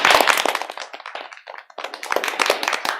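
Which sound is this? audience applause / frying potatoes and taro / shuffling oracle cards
audience applause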